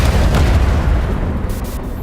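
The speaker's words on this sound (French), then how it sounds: "Des explosions." Explosions in a city street scene in London give a loud, continuous rumbling roar of blasts that stays dense and heavy for two seconds before easing slightly, with no voices.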